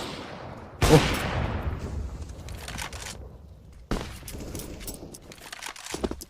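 Gunfire in CS:GO on the Inferno map during a competitive match: a sudden loud burst of shots with a long decaying tail, then a second sharp report a few seconds later, followed by scattered fainter shots.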